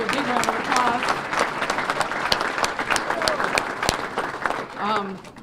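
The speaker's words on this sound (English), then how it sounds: "I want to give you a big round of applause" Audience at a chamber of commerce annual dinner giving a sustained round of clapping, dense and steady throughout, with a voice speaking over the applause.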